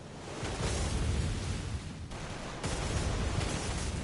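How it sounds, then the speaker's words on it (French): Dense, continuous gunfire in Bloodborne: The Old Hunters, a heavy barrage of rapid shots and booms with a brief dip partway through, loud and without talk. "Et des coups de feu."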